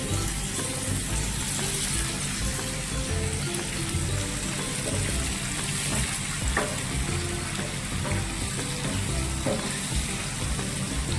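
Chicken leg pieces frying in a pan with oil, a steady dense sizzle that carries on without a break, loud and close, with a few faint clinks.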